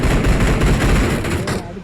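Rapid gunfire from PUBG played on an emulator, a dense continuous rattle of shots running loud for nearly two seconds, with voices from the game mixed in.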